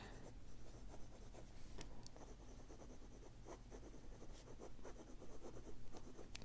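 A fountain pen nib scratches across paper in soft, close strokes with small pauses, quiet and alone.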